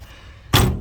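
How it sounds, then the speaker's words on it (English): A pickup door on a 1956 Chevrolet 3100 Stepside with new strikers and hinges shuts once with a solid, loud slam after a quiet moment, the thud ringing briefly before fading. "Watch how nice the door's close."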